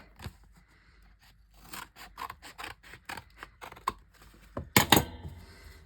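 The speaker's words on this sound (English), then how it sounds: "So first of all, I'm just going to cut off this end." Scissors cutting through the end of a thin cardboard food box, a series of short crisp snips and crunches ending in a louder rapid cluster near the end, close and alone.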